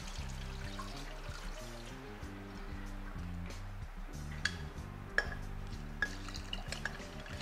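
Soaking water from rice is poured out for rice tamales, a soft steady trickle over a low repeating musical background, with a few small clinks near the end.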